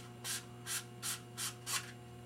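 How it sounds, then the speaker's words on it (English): Sandpaper roughs up a 1-1/8 inch bowling ball thumb insert in five quick, even rubbing strokes, close and crisp over a steady low hum. "I like to rough them up with a little bit of sandpaper"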